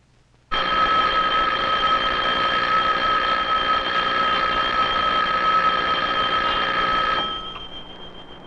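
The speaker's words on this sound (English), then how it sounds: "But when you ring the bell," An electric bell rings in one continuous, loud metallic trill with a steady bright tone, starting abruptly and holding for several seconds before cutting off to a faint fading hum.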